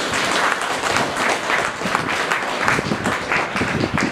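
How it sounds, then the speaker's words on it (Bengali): An audience at a creative meditation program gives steady, dense applause, a continuous patter of many hands clapping together from start to finish. "আমরা সবাই ধন্যবাদ করতালি দিয়ে।"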